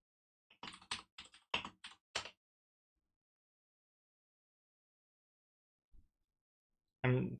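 Short bursts of keystrokes on a computer keyboard, a quick run of crisp clicks followed by silence, then a lone tap and another brief clatter at the end.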